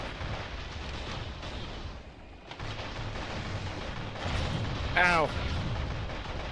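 Rapid gunfire from a mech's weapon in the video game Heavy Storm Shadow, a dense continuous barrage of booming shots with a short dip midway and a brief vocal exclamation near the end.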